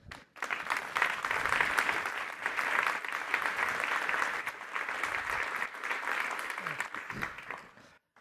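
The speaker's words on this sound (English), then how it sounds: "If you give them a warm round of applause." An audience applauds panelists at a Pride and Prejudice panel event in New York, a full, steady round of many hands clapping that swells quickly, holds evenly for several seconds and then tapers off.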